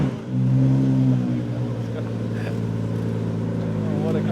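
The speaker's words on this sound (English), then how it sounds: "We have the Ferrari 599XX pulling out here just after having been refueled." A Ferrari 599XX pulling away after refuelling, its engine a loud, steady low rumble with rising revs, with a crowd talking faintly underneath.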